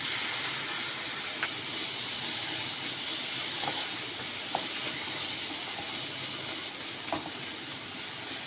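Tomato and masala fry in a pan for chilli parotta, giving a steady, fairly quiet hiss with a few soft clicks and pops scattered through it and no voices.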